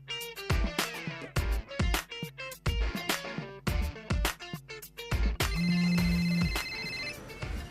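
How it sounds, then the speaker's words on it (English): A mobile phone ringtone comes in near the end as a steady electronic ring, following rhythmic music with heavy beats; the ring is moderately loud and sits under the music rather than alone. "Hey, your phone's ringing."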